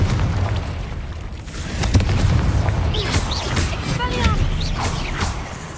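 Confringo spell explosions in the Hogwarts Legacy video game, heard as several booming blasts and whooshing impacts amid busy game effects, fairly loud and close, with a voice speaking over them.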